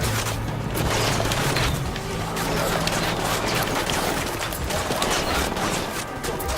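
Gunfire fills a firefight in the video game Ghost Recon Wildlands as a dense, continuous barrage of overlapping rattling shots and booms, loud and close, with a low droning hum underneath.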